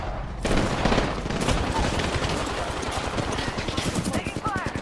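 Heavy gunfire in Apex Legends on Kings Canyon at night, rapid automatic bursts firing continuously and loudly up close, with a voice briefly audible over the shooting.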